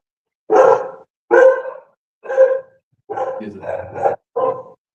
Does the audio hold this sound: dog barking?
yes